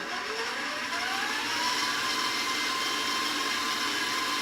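An electric mixer runs at higher speed, whipping banana nut bread batter in a steady, loud whirring drone that rises slightly in pitch early on, with no talking.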